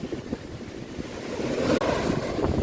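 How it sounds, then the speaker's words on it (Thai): Evening sea waves washing onto a beach at Phayun, Ban Chang, Rayong, a steady broadband wash of surf with wind rumble on the microphone, continuous and fairly loud with no talk. "นี่ คือความสวยงาม ของทะเลตอนค่ำๆ ครับ"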